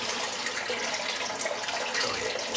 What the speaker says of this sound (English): So I'm just going to add a little bit of water on it.